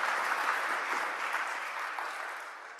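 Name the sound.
audience applause for speaker Lee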